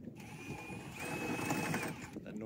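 A small homemade outboard motor runs steadily in the background beside a classic timber boat on a miserable day, a continuous buzzing drone with a thin whine, partly under speech.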